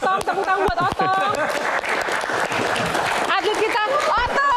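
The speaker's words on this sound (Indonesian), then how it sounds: "Tepuk tangan buat Otong." A live audience claps for the athlete Otong during an arm-wrestling event, with scattered applause and lively voices carrying over it, and the clapping bunches into bursts at a few points.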